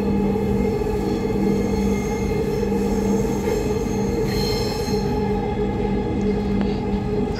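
A metro train in Dhaka pulls away from a station and runs on its rails: a loud, steady rolling rumble with a sustained electric whine and faint wheel squeal, heard from inside the car.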